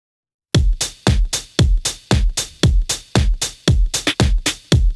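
The first drum layer of a produced beat: punchy, booming kicks with sharp transients hit in a steady pattern, loud and close, starting after a half-second of silence, with no voices.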